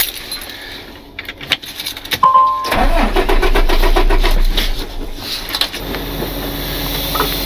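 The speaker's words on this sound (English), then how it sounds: "we dumped the air in the truck" A tow truck's air suspension dumps with a loud sustained hiss of rushing air after a few clicks and clanks, running for several seconds close by at night with an engine idling underneath.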